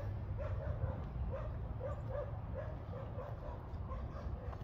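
A dog barks outside while someone walks it, a series of muffled, fairly distant barks and yips repeating every half second or so over a heavy low rumble of background noise.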